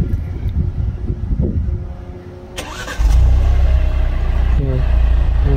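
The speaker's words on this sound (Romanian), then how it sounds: "Mașina are și pornire din cheie de la distanță, așa că o să facem chestia asta." An Alfa Romeo Giulia started by remote key: a short click, then the engine cranks and catches with a loud rising rev before settling into a steady, close idle. A voice talks briefly before the start.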